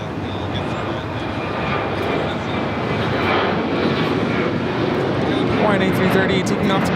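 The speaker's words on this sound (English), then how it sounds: "A330 taking off to Kona." An Airbus A330 jet takes off from Los Angeles International Airport bound for Kona, its engines a steady, broad roar that holds loud and even throughout, with faint radio chatter beneath.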